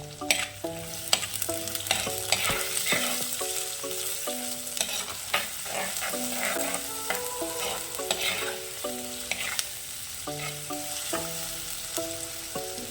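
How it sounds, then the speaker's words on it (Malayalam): Sliced onion with cumin and dried chilli sautéing in a pan, a steady close sizzle with repeated scraping stirs throughout and no voices. "അത് ചേർത്ത് നന്നായിട്ടൊന്ന് ഇളക്കി കൊടുക്കാം. ഇതൊരു 4-5 മിനിറ്റ് ഒന്ന് വാട്ടിയെടുക്കണം."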